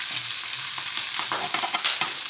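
A roast pork, apple and cheese toasted sandwich is turned over in a frying pan, with a steady loud sizzle and scraping of the utensil against the pan, growing busier toward the end.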